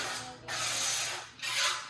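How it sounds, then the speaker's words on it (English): Avocado oil cooking spray is misted onto a pan while lasagna rolls are prepared, in two close, steady hissing bursts with a short gap between them. "I just sprayed it with some avocado oil spray."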